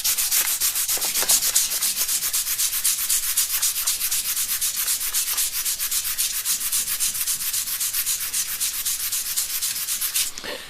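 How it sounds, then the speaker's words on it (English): Sandpaper rubs paint off a steel knife blade, a fast, even back-and-forth scratching of rapid strokes, close and steady for about ten seconds before stopping. "I'll just use the sandpaper quickly on it."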